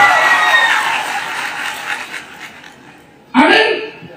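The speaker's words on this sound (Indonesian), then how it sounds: "Kasih tepuk tangan yang meriah." A crowd at an outdoor revival meeting claps and cheers in a broad wash that slowly fades, followed by a sudden loud burst near the end with voices mixed in.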